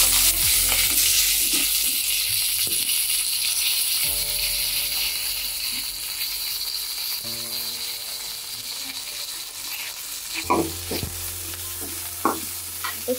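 Curry leaves hitting hot oil in a pan while egg fry is being cooked, giving a steady broadband sizzle with scraping and stirring clicks, then a few louder clatters near the end.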